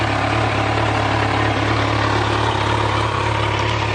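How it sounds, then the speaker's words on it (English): A brand-new motorcycle idles through its exhaust, close and loud, with a steady low pulsing thrum that holds an even rhythm without revving for the whole stretch. "See if we can get a little sound of that exhaust. The exhaust has a great sound to it."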